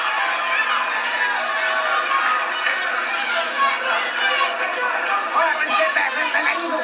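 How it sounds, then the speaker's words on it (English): Boxing crowd at a Buddy McGrit versus Simon Brown bout, chanting for McGrit in a steady, dense roar of many voices that fills the arena without pause. "The crowd chanting for McGrit."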